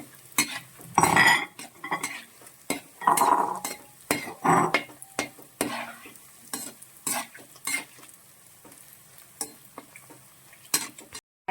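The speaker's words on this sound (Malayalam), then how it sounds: "ഇപ്പം നമ്മൾ എണ്ണയിലിട്ടൊന്ന് വറുത്തെടുക്കുവാണ്" Bread fries in oil with an uneven crackling sizzle, broken by sharp scrapes and clinks of a utensil stirring in the pan.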